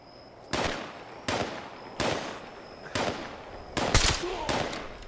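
Quad Sniper Rifle fire in Fallout 76: six sharp game gunshots, each followed by a short decaying tail, spaced roughly a second apart in a steady rhythm.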